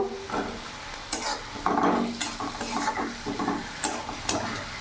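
Cut flat beans are stirred into a sizzling rohu fish curry with fried potatoes in a pan, a utensil scraping and clacking in irregular strokes over a steady frying hiss, close up.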